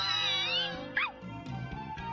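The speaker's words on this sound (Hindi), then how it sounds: "शिरो ने इस बिल्ली को बचाया है।" A cat in a Shinchan cartoon gives a clear, close meow with a rising and falling pitch, heard over soft background cartoon sound.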